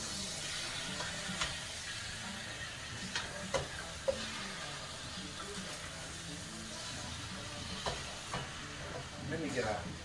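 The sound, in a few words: stirring Trinidad curry chicken in a pot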